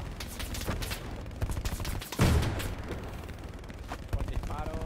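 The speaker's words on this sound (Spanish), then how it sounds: "Panther, mira a ver si puedes disparar ahí, justo." Gunfire in the WWII shooter Hell Let Loose, rapid overlapping shots and bursts with one heavier boom midway, close and loud, mixed with faint voice chatter.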